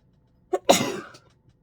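A single sharp sneeze bursts out close and loud after a brief intake, trailing off within about half a second in otherwise quiet surroundings.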